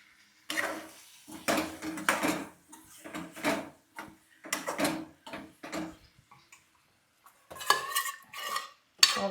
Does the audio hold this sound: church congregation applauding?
no